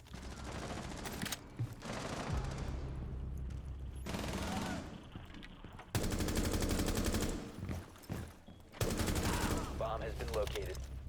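Rainbow Six Siege gunfire during Sledge gameplay, with dense bursts of rapid shots and heavy loud blasts in several long stretches separated by brief drops, under a low game background.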